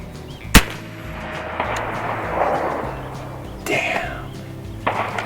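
An air-powered 12 gauge shotgun loaded with real lead buckshot fires once, a sharp loud crack early on, followed by outdoor background noise and a couple of fainter thumps.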